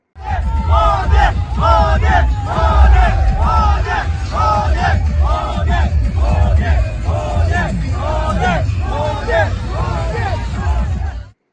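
BJP supporters celebrate Suresh Gopi's election win in Thrissur with a dense, loud crowd of voices that chants, shouts and cheers continuously throughout.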